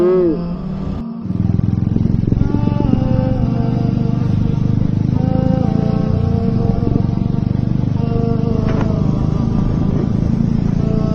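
Motorcycles race past nearby during a bike stunt outing, their engines droning loudly and continuously with shifting revs and some clatter.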